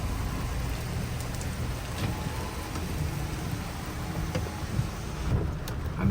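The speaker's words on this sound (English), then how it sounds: "And the rain still falling." Heavy rain pours steadily in Georgetown, a dense, continuous hiss of water falling on surfaces, with scattered louder drips and splashes.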